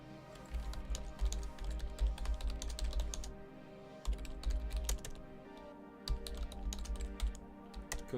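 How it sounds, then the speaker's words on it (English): Steady typing on a computer keyboard during an online Battletech tournament match, with quick irregular key clicks in bursts and a low hum running underneath throughout. "Oh, he's typing to me."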